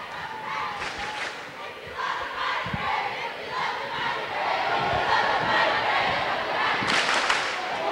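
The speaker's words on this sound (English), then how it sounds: "I think we might get a little cheering war here." A crowd at a 1995 high school basketball game between M.E.H.S. and Sitka H.S. keeps up a steady roar of shouting and cheering, swelling near the end, with a few thuds and talk underneath.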